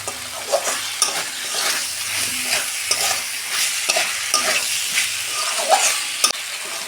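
Green beans and potatoes are sautéed and stirred in a pan, with a close, continuous sizzle broken by repeated scraping strokes of a spatula.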